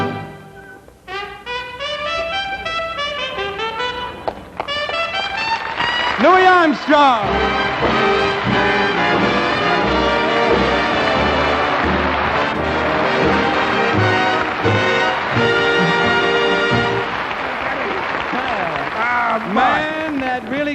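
Lively jazz performance by a band on a television comedy variety show, with brass and rhythm section playing loud and full throughout, after a brief spoken introduction.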